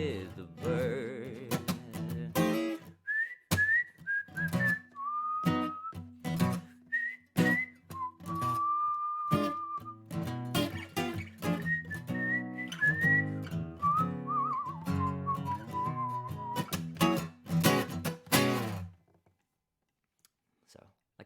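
A person whistles a tune alone, the melody gliding in short rising and falling phrases with sharp clicks and taps beneath, stopping abruptly near the end.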